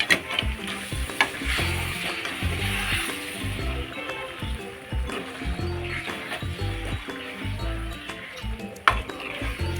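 Vajdi (tripe) fry sizzles steadily in a hot pan with salt while it is stirred, an even crackling hiss with scraping strokes throughout.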